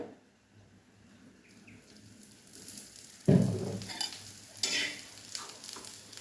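Onions frying in oil for a thick mutton gravy, quiet at first, then a sudden burst of loud close sizzling as they hit the hot oil, followed by softer crackle and a stir.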